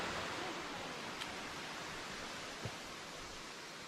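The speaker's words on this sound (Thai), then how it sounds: "จุดชมน้ำตกด้านล่างของน้ำตกเพนพบใหม่" Phen Phop Mai waterfall in Phu Kradueng National Park, heard from the lower viewpoint as a steady, full broadband rush of falling water, even and unbroken throughout, with a couple of faint brief knocks.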